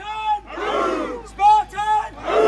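At a Spartan Race start, a crowd chants and cheers together, giving loud, close bursts of group shouting in rhythmic surges that rise and fall without pause.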